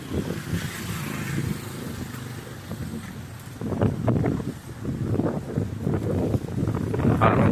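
Gusty wind buffets the microphone at a residential high-rise construction site on a drizzly day, a soft rushing that swells into louder rumbling bursts in the second half, with no speech.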